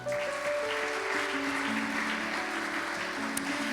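Steady applause from a church congregation during a sermon fills the whole stretch, dense and even, with a faint voice briefly underneath.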